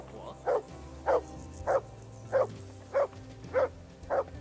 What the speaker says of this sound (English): Mutt will bark on the spot where you issue the command